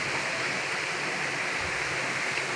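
Water runs steadily through a split bamboo pipe at a village spring, a constant close, even rushing hiss with no pauses and no voices.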